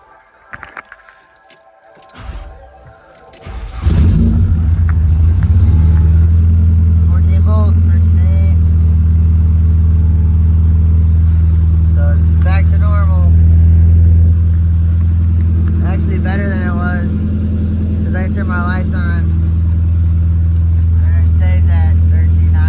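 A car's engine fires up after a short ignition attempt and then settles into a loud, steady rumbling idle close by. The car has had electrical faults worked on. Someone speaks intermittently over the running engine.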